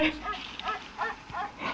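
Several short, sharp barks from a dog in a Roblox video game, in quick succession, fairly close, with brief gaps between them and no talking.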